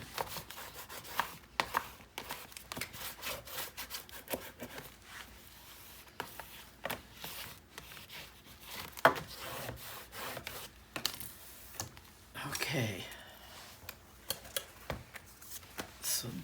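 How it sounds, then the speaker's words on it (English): Paper being burnished while building a 9 x 9 mini album: close, uneven rubbing and scraping strokes in short bursts with small taps and clicks between them, no talking. "oh, I need to burnish"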